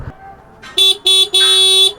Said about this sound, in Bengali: হর্নের মনে হচ্ছে গলা ভাঙিয়ে গেছে